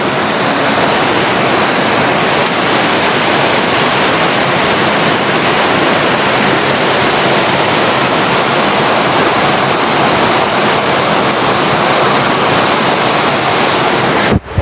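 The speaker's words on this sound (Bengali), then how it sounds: "অনেক বৃষ্টি দিচ্ছে আজ এখানে।" Heavy rain pours down outdoors during a downpour, a loud, dense, unbroken roar of wide-band noise that holds steady throughout, with no voices.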